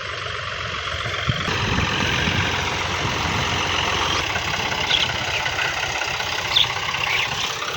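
A tractor engine idles steadily and close by, a continuous low rumble that holds through the whole stretch, with a brief tonal hum fading out early on; no one speaks.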